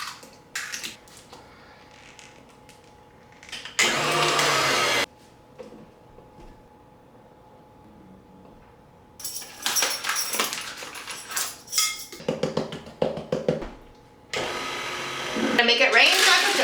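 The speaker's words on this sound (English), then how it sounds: "I'll let the stand mixer do the work and just mix it all together for me" A stand mixer beats banana bread batter in several loud whirring bursts of steady motor noise, separated by quieter gaps, with some clattering and a voice speaking at the start and between runs.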